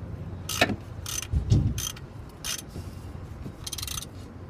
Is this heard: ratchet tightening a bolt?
yes